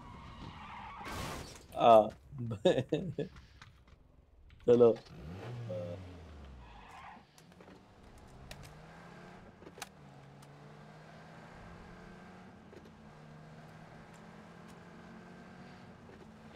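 A vehicle driving in PUBG, an engine droning and shifting pitch with skidding, steady for most of the stretch after loud speech at the start, with someone talking briefly.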